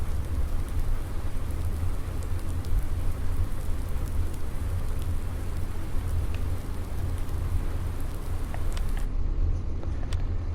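Steady, even rain falls in the Farming Simulator 19 video game, a continuous hiss of downpour with no talking.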